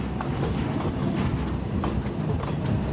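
A late-night freight train rolls past at close range, a continuous loud rumble with steady wheel clatter and faint rhythmic clicks over the rails.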